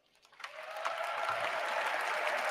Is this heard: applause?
yes